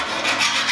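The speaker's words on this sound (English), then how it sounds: "run our file along the side, ensuring that any burrs are removed" Hand file rasping burrs off the cut edge of 4 mm tray, one steady, close, loud scraping stroke filling the short moment.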